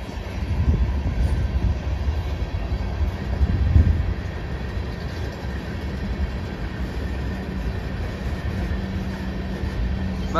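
CSX freight train rolling past with old Baltimore and Ohio gondola cars, a steady low rumble of wagons that swells briefly near the start and holds close and continuous.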